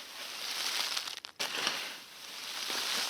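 Biochar coals being stirred, giving a steady close crunching and crinkling with a glassy, brittle edge, briefly pausing midway before the raking resumes.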